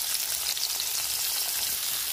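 Chopped onion and green chili sizzle in hot oil in a wok, a steady bright crackling fry heard close up with no speech over it.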